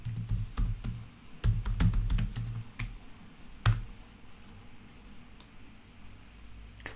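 Password being typed on a computer keyboard: a quick run of sharp key clicks that comes in bursts, with short pauses, then thins out into a few scattered taps, close up and fairly quiet.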